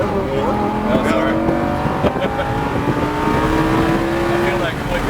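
A Lamborghini Huracan engine drones and climbs in pitch as the car accelerates on a race track, a steady close mechanical roar with rising harmonics under a driving instructor's coaching voice.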